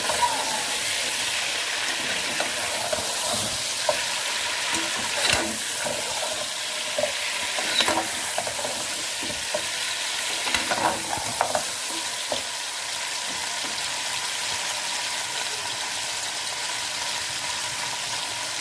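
A spoon clatters and scrapes against a pressure cooker while bone-in aloo gosht meat sizzles and fries, irregular metallic taps over a constant hiss, close and moderately loud with no talk.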